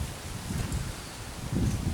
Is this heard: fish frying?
no